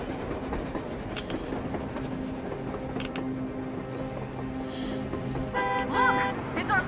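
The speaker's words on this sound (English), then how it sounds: "Looks like they're chasing that train too." Train in Metro Exodus rolls past with a steady low rumble and rhythmic clatter of cars on the rails, a continuous mechanical drone, while voices call out faintly near the end.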